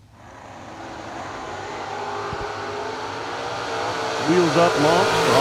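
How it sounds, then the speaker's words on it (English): A drag racing car launches off the line in a wheels-up start, its engine rising from a low rumble into a climbing, revving roar that grows louder toward the end. "Wheels up, launch for Austin Brown."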